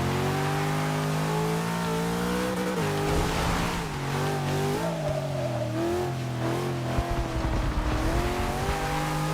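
A 2002 Nissan GT-R driven in a Forza 6 racing game on a rainy track, its engine revving and shifting through gears with rising and falling pitch sweeps and brief tire noise, loud and continuous.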